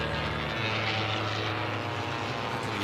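Racing biplanes, including Christen Eagles, roar past during a biplane race at the Reno Air Races, a loud continuous propeller-engine drone with a falling pitch as they sweep by.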